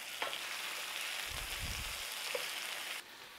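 Liver slices frying in a pan, a steady soft sizzle running throughout with a few low bubbling pops in the middle, close and moderate in level with no talking.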